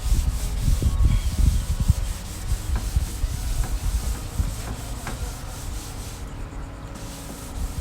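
A clean towel rubs and wipes across a bus surface during window-delete prep, making a rough, continuous scrubbing sound with uneven strokes, fairly close and alone.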